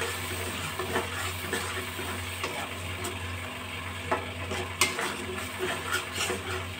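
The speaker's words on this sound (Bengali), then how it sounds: "একটু নাড়াচাড়া করে দেবো।" A ground paste of tender coconut flesh, poppy seeds, cashews, green chilli and ginger is stirred in a pan over a low flame, giving a gentle sizzle with repeated scraping and clinking strokes of the spatula and no voices.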